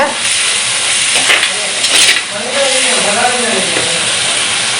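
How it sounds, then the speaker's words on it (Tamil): Tomato and green chilli stirred in a clay pot over a village cooking fire, a loud continuous sizzle and hiss with scraping stir strokes close by, with faint voices underneath. "நான் கிளறிட்டே இருக்கிறதால அடிப்பிடிக்கல"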